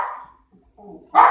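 A dog barks at home, a couple of short barks separated by a brief quiet gap, moderately close and clear, with a voice briefly heard.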